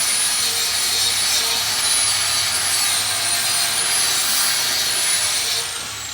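Stick welding on a vertical joint at a construction site gives a steady close crackling hiss with a thin high whine riding above it, holding level until it eases off at the end.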